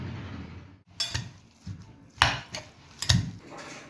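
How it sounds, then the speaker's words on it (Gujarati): Boiled potatoes and spiced filling for aloo bonda being mixed in a bowl, giving irregular close clinks and soft thuds of a spoon against the vessel, with no talking. "હવે આપણે બધું આ જે મસાલો છે આપણો મિક્સ કરી લઈશું"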